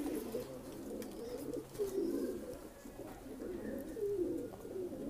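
Lalsare pigeons, several pairs kept for sale in Bhopal, coo in low overlapping rolling calls that keep up steadily throughout, close by and moderately loud, with no talk over them.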